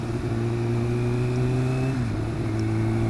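A 2013 Kawasaki ZX6R sports motorcycle engine accelerating on the road, a loud steady drone whose pitch climbs, then dips briefly as it changes up a gear, heard from close by.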